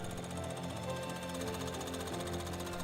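A workshop machine rough-trims leather shoe soles during Goodyear-welted shoemaking, giving off a steady, loud, rattling buzz with no pauses, alone with no voices.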